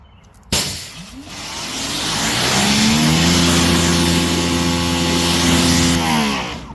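Water spraying onto oxidized black plastic car trim during a rinse, heard as a loud, steady hiss that starts abruptly, with a droning pump or pressure-washer tone underneath and no talking.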